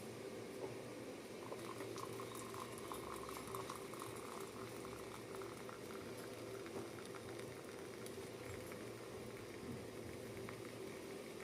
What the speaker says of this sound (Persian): خب اینم آب جوش. حالا یه لیوان دیگه میریزیم.